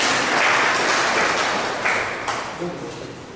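Crowd applause at a community executives' introduction in Tripoli, Libya, strong at first then tapering off, with a few stray claps and thuds and faint voices emerging as it fades.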